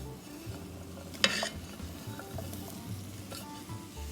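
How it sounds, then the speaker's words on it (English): Hoop cheese is stirred into eggs in a hot pan, with a steady soft sizzle of frying, an occasional clink of a utensil against the pan, and light scraping throughout, close up. "we're going to stir the hoop cheese around in the eggs until it starts to melt"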